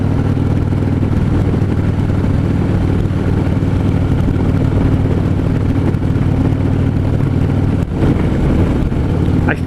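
A 2015 Harley-Davidson Street Glide motorcycle cruising on the road, its steady low engine drone loud and continuous throughout with wind rush, and a brief dip near the end.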